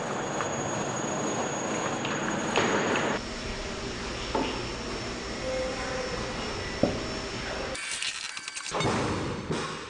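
A single railway car rolls slowly into a large environmental test chamber used to check a new train's heating and cooling, giving a steady broadband rumble with scattered clanks and a brief drop near the end.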